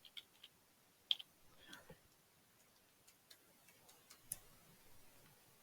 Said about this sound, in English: I'm going to just type in here